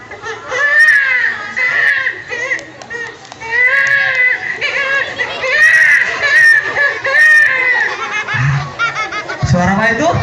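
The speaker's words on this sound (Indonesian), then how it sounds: "Bayi yang baru lahir." A newborn baby cries loudly and continuously in wavering, high wails close by, with short pauses for breath and some low background noise near the end.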